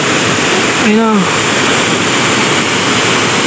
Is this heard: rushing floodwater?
yes